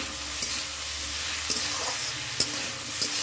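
Leafy greens go into a hot frying pan of oil with salt and turmeric, making a loud, steady close sizzle broken by a few light spatula taps against the pan.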